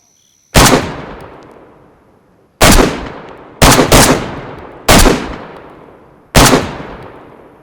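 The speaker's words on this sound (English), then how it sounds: "we'll fire a few rounds off from this gun" Five loud single shots from an AK rifle, the 5.56 variant, in the DayZ video game, each a sharp crack with a long echoing tail, spaced irregularly, two coming close together, no talk.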